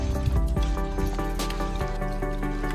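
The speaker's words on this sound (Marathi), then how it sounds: "आता पाऊस सकाळपासून पडतोच आहे." Rain falls during a morning spent fishing with an old-style trap in coastal Konkan, a soft, close patter of drops and drips that carries on steadily with no talk.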